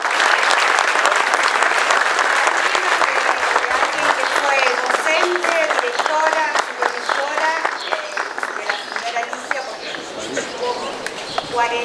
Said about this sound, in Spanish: Sostenemos el aplauso.